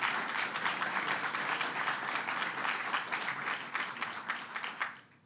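Sustained audience applause at a gubernatorial executive order signing event, dense even clapping from a crowd that holds steady and then tapers off.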